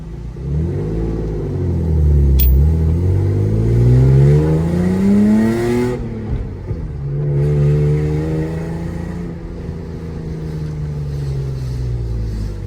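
A manual Lexus IS300 with an unlocked ECU pulls hard from first into second gear, its engine note climbing steadily, dropping at the shift, then rising again, loud and close from inside the car.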